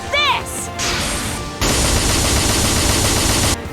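Rapid gunfire from the Super Neptunia RPG video game, a dense, loud continuous burst of shots layered with game effects after a brief chirping sound.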